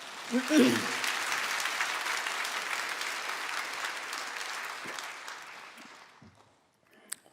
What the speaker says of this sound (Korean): 우리 격려의 박수를 하나 해주십시다.